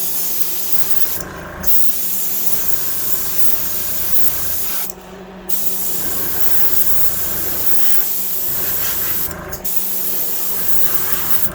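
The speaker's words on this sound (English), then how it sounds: "Spraying this on low pressure." Steady hiss of a spray gun at low pressure applying a bone base coat to a fishing lure, running in long bursts separated by a few brief pauses.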